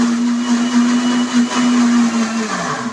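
A mixer grinder whirs loudly and steadily at close range, its motor tone dipping slightly now and then, with no voices.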